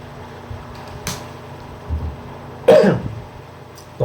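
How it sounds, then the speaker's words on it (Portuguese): A dry cough bursts out once, sharp and close, with a smaller throat-clearing sound before it and another brief burst at the end, in an otherwise quiet room. "Tosse seca."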